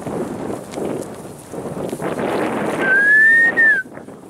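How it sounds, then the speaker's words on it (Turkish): Cold wind blows across high mountain pasture in wintry conditions, a steady, rough rush of gusty noise throughout, with a brief thin whistling tone rising near the end. "bir kış mevsimi gibi bir rüzgar esiyor"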